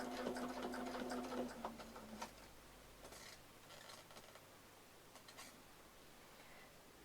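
A sewing machine runs in a quick, close whirring burst while backtracking stitches, then stops, leaving quiet handling clicks and faint rustling.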